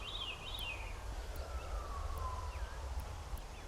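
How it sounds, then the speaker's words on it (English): A sheriff's vehicle siren wails faintly in the distance, a thin rising-and-falling tone over a low rumbling outdoor background, with a couple of soft ticks and no talk. "Siren. I don't hear that very much out here."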